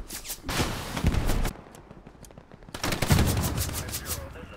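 Bursts of rapid gunfire and a grenade launch in the World War II shooter Hell Let Loose, two dense volleys of loud, close shots separated by a quieter lull.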